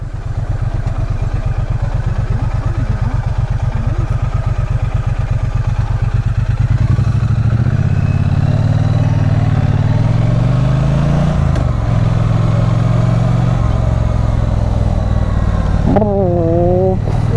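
A Triumph Bonneville T100 motorcycle engine runs loud and close, a steady throbbing idle with mechanical clatter that shifts in pitch as it is revved, ending with a brief wavering rise.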